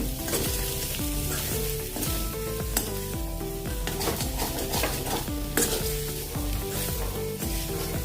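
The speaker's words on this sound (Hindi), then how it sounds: "स्वाद के अनुसार इसमें हम नमक डाल देंगे और एक बार अच्छे से मिक्स कर लेंगे।" Pahadi-style potato sabzi (aloo ke gutke) is stirred and fried in a pan, with a steady sizzle and repeated scraping strokes running throughout, loud and close, with a tonal layer underneath.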